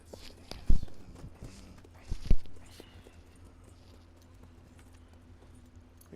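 Horse hooves clip-clopping in a video game, two louder hoof thuds standing out near the start against a low, steady game ambience, with the rest of the steps faint.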